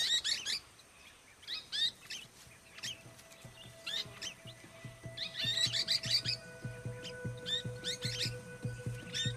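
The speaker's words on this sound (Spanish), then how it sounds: "La finca de Sue es un paraíso para los pericos de alas amarillas" Yellow-winged parakeets calling on a farm, bursts of shrill chirps repeating through the clip at moderate distance, over a faint steady outdoor background with a low hum and no talk.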